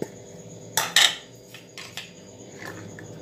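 Utensils clink and scrape against a bowl while pasta salad with chicken, corn, onion and celery is mixed, two sharp bright clatters followed by softer, scattered taps.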